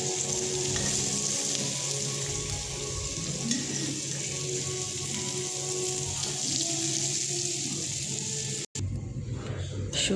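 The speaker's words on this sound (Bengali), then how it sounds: "এখন হালকা একটু ভেজে নেব আগে শুটকিটা" Dried tengra fish frying in a wok gives a steady, dense sizzle close up, with occasional stirring, running continuously for about nine seconds before a sudden brief break and a quieter tail.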